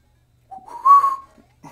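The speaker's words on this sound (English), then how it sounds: "Why do you keep whistling?" A person whistles a short rising tune in a Super Mario Bros. NES game session, a single clear whistled phrase lasting about a second, alone and close with no talking.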